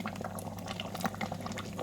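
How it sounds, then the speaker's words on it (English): Mince boils down in an open electric pressure cooker, giving a steady close bubbling and spluttering with small irregular pops and no voices. "at the moment it's still doing the boiling down"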